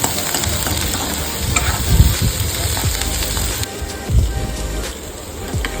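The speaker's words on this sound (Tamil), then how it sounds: "பாஸ்தா வந்து பாயில் ஆகிட்டு இருக்கும்போது மெதுவாக கிளறி விட்டுக்கோங்க" Pasta boiling in a steel pot while being stirred, a close bubbling hiss broken by several scraping, swishing strokes of the spoon against the metal.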